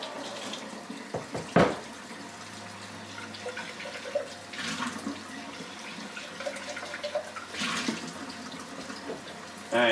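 Tap water running over a YSI 6 Series water-quality sonde during rinsing, a steady splashing flow with a few clunks and handling knocks, faint voice in the background.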